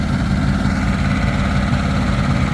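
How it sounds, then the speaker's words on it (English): A boat engine fitted with a Holley carburetor, installed in a Ford Bronco, idles high with a loud, steady low rumble and even throbbing pulses, close up and uninterrupted. "The idle on it is very high. It's got a Holley carburetor, and he's having a hard time with the adjustment,"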